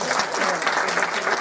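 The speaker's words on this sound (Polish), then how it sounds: "A propos Bieruta, to też proponuję teraz oklaski dla pana Bończaka." Steady applause from a cinema audience at a special educational film screening, a dense even patter of many hands clapping close by for the whole stretch.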